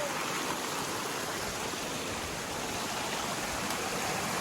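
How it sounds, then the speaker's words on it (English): A hidden waterfall in Malki forest, Meghalaya, roars as a steady broad rush of falling water, close and loud, unbroken throughout with no voices. "Finally, I am reaching in waterfall."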